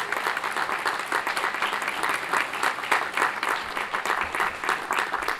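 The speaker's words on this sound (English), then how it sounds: "So please give all these folks a nice round of applause." A crowd applauds at the building dedication for Thomas Ewing Junior High School, giving a warm, continuous round of clapping that stays loud and even throughout.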